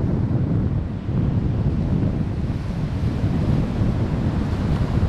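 Ocean surf rolls steadily onto an Outer Banks beach near a fishing pier, a continuous broad wash of breaking waves mixed with gusty wind buffeting the microphone, with no talking.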